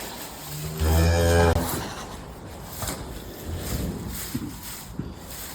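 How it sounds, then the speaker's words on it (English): Cattle on a farm moo at feeding time, one loud, close, drawn-out moo near the start, then quieter lowing against steady barn background noise. "we feed up these cows here"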